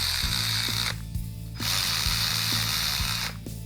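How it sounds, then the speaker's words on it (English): Electric 1/4-inch ratchet running bolts down on a car, a close, loud mechanical whir with rapid clicking pawl ticks, pausing twice briefly before spinning again. "We're just going to use the electric 1/4-inch ratchet just to run these down."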